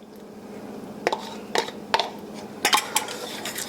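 Melted butter being stirred into cream cheese in a dish, a handful of sharp utensil clinks and scrapes against the bowl at irregular intervals over a quiet background.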